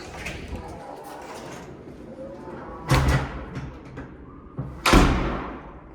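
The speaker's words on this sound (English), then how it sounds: "This is one of the most aggressive doors I've ever seen." Two heavy door slams, one near the middle and one toward the end, each a sharp broadband thud with a short decay over a quiet room background.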